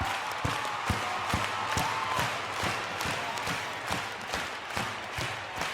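A large keynote crowd in Vancouver claps in a steady, rhythmic beat for Magic Johnson, regular sharp hits spread evenly across a continuous wash of crowd noise, sustained and fairly loud throughout.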